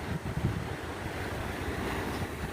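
Surf breaking along the rocky shore at the La Jolla tide pools in California at midday low tide, a steady broadband wash with wind buffeting the microphone, continuous and fairly distant, no voices.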